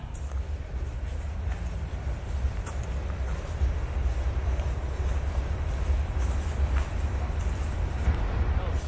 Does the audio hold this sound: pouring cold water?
no